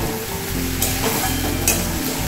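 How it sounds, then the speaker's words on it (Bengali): Food stir-frying in a pan for an old traditional Bengali dish, a loud, close, continuous sizzle broken by a few sharp bursts as a spatula turns and scrapes the contents, with no talking. "এবার এটাকে কষিয়ে নেব"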